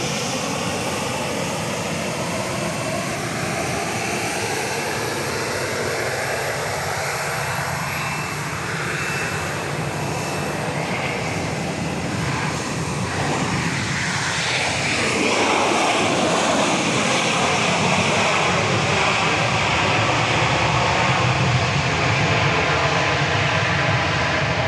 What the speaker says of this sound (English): Flight 208 coming in from San Jose, California is coming in.